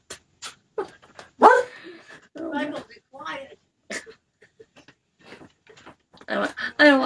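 One of four household dogs yips and whimpers in short, uneven bursts while a person talks and hushes it nearby.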